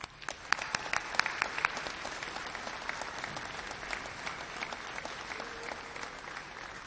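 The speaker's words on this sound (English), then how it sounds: "Please join me in congratulating Logan with your applause" At a 2018 commencement ceremony, a crowd of family and friends claps for a graduating student with sharp, fairly distant hand claps, the applause sounding soft and continuous throughout.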